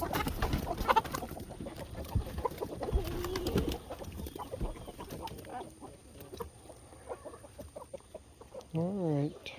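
Backyard chickens cluck and murmur close by while a person talks and moves around nearby, with soft rhythmic clucks and a few louder calls near the end.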